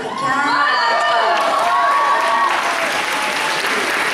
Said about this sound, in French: On applaudit plus fort.